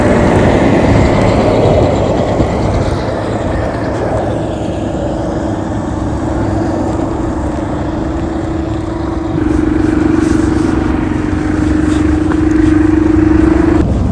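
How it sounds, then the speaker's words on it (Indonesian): A tractor engine clearing snow from a narrow residential lane runs as a steady, loud drone close by, with a sustained hum that rises in strength toward the end; no voices. "Ini mau bersihin gang jalan traktornya."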